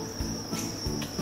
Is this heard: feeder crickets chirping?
yes